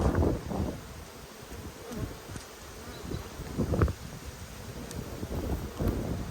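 Honey bees crawl and buzz on the outside of a hive box during an outdoor Australian inspection, a faint continuous hum under gusty wind noise with occasional soft knocks and rustles.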